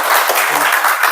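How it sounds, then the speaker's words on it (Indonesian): A short, loud burst of applause from an audience after a class presentation, dense clapping filling the moment with no break. "tepuk tangan dulu"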